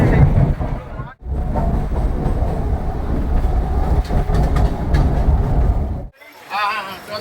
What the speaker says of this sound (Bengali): আমরা সবাই ট্রেনে উঠে পড়েছি।